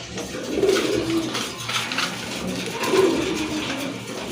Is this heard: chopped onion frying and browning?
no